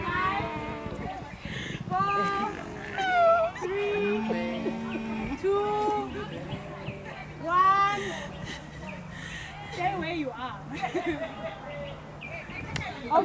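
During an outdoor group game, a person imitates a cat with drawn-out meow-like wails, mixed with other animal-like calls and surrounding talk.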